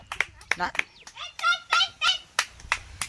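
A few scattered hand claps ring out during a children's challenge game, short sharp bursts spread between lively nearby talking voices.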